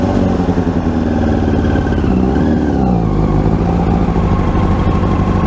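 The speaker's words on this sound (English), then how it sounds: "Let me rev it up." A Yamaha R1 motorcycle engine runs loud and close, its steady rumble swelling as it revs up and settling back, with no voices over it.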